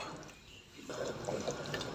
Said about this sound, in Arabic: انا كنت زدت هنا ماء سخونه